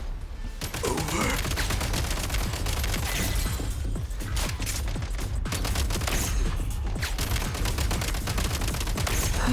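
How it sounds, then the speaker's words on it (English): Sustained automatic weapon gunfire in Genshin Impact, rapid dense bursts rattling almost continuously and loudly, with the steady staccato of a machine gun running throughout without pause. "Yo, we got automatic and Genshin Impact."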